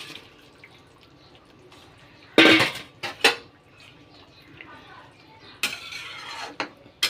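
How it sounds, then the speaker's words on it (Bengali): Fried prawns are tipped into a simmering Kashmiri-chilli curry with kohlrabi and stirred in the pan, giving a few sharp metallic clatters and scrapes of a utensil against the pan over a quiet kitchen background. "এইবার এই ভাজা চিংড়ি মাছগুলো এর মধ্যে দিয়ে দেওয়া যাক"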